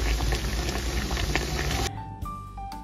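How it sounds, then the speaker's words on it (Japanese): Straw bubbling in a pot of boiling water being sterilized, a dense, steady burble and patter up close, then cutting off abruptly to near quiet with a few faint tones. "このように、ぐつぐつぐつぐつ煮えてますけれども"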